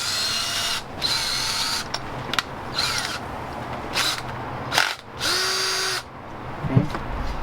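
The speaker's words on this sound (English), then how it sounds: "this drill bit is specifically made to drill through this aluminum block" A drill bit bores into the aluminum block of a 2003 Toyota Highlander 2.4L engine during head bolt thread repair, with several bursts of steady whining power-tool noise separated by short pauses, close up.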